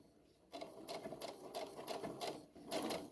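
A sewing machine runs close by in short rhythmic bursts while back stitching pajama shorts, its whirring motor pulsing as it pauses and restarts.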